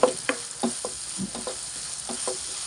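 Thinly sliced small onion frying in a pan for green peas curry, a steady close sizzle broken by soft scattered stirring taps.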